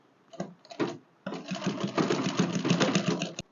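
Sewing machine stitching gown fabric: two short bursts of whirring, then a steady, continuous run of rapid stitching close up, stopping abruptly.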